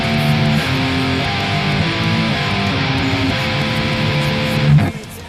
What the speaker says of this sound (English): the crunchier channel, which is just the guitar into an overdriven amp with no effects on it, sounds like this.